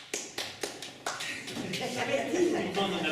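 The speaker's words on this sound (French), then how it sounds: "Je vous demande de les applaudir, c'est fait." A few sparse, distinct claps at a local political party assembly, then scattered clapping that blends into shuffling and murmuring voices, fairly faint and brief.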